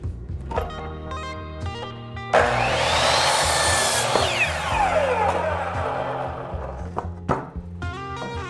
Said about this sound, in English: we're gonna go ahead and just cut that end off